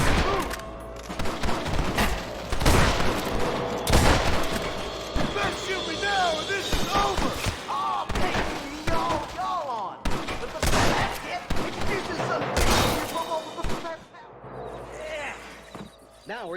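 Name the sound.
gunfire in Red Dead Redemption video game cutscene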